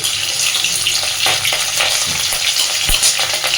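Chopped ginger and green chili frying in hot oil for an egg and red lentil tarka, a steady close sizzle with a few soft stirring knocks, no talking.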